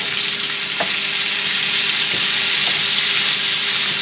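Chicken fajita vegetables fry in a hot pan with a loud, steady sizzle and hiss, broken by a few soft scrapes and taps of stirring; no talking.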